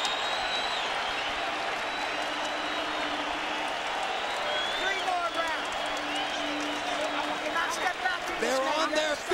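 A boxing arena crowd applauds both fighters in round nine of the Fernando Vargas vs Felix Trinidad fight, a dense, steady wash of clapping and crowd roar that runs throughout beneath a commentator's voice.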